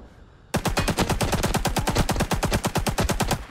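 Sustained automatic fire from an RP-46 machine gun in the video game Rising Storm 2, set in Saigon, a loud rapid stream of evenly spaced shots bursting in after a quiet moment and running continuously to the end.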